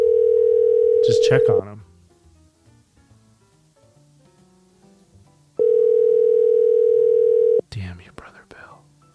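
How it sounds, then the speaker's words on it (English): A phone call in a prank-call setting, with two long steady ringback tones, each about two seconds and loud, separated by quiet; people talk and whisper around the tones. "We need to call him from your phone."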